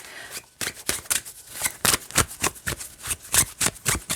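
Quick, rhythmic flicks of tarot cards slapping together as the deck is shuffled hand over hand, close and crisp, with no talking.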